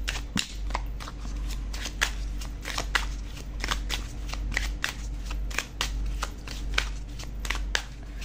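Tarot cards are handled and shuffled close up: a steady run of crisp riffling snaps and papery flicks, continuous and rhythmic, with no talking over them.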